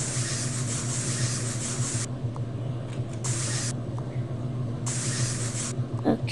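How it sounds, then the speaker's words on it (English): Hairspray in the Toca Boca video game hisses in three short, bright spray bursts over steady background game music. "Hairspray."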